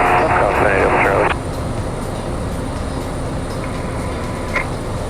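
A Piper light aircraft engine drones steadily during takeoff, heard from the cockpit as a loud, constant hum with a burst of radio chatter at the start.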